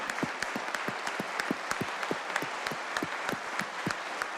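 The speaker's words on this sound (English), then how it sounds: "if you would please stand and the House give them a round of applause" Members of the West Virginia House of Delegates applaud in their chamber during a floor session, with distinct individual claps landing in a brisk, fairly regular rhythm, moderately loud and close.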